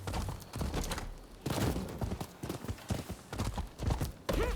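Rapid rhythmic hoofbeats of a galloping horse in the video game Rise of the Ronin, loud and close, pounding continuously in uneven bursts over rough terrain, with no talking.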